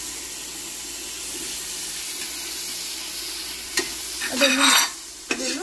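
Chopped tomatoes go into a hot pan for chicken biriyani, setting off a brief burst of sizzling and a clatter after a low steady background hiss; a voice speaks briefly.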